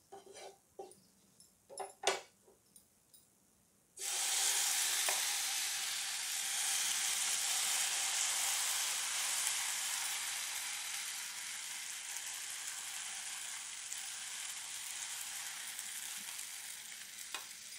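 Rice flour uttappa fries in a little oil with a sudden loud sizzle that starts after a few quiet knocks and then holds steady, slowly fading a little, close and with no voices.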